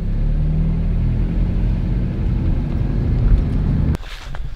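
A low, steady boat motor rumble drones continuously on a river, then cuts away abruptly near the end, leaving quieter outdoor ambience.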